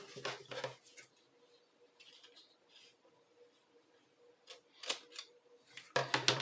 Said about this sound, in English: we will make our cut right along that fold